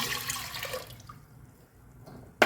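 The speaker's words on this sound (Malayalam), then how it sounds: "നന്നായി കഴുകി എടുത്ത ചെറുപയർ പരിപ്പിലേക്ക് ഒരു കപ്പ് വെള്ളം ഒഴിക്കാം" Water is poured from a cup onto washed split green gram, a brief splashing pour that fades into quiet with a small clink at the end.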